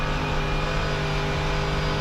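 Mercedes GT3 race car running flat out at the Nürburgring, heard from inside the car as a loud, steady engine roar at high revs, unbroken and alone.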